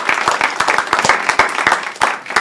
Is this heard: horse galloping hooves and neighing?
no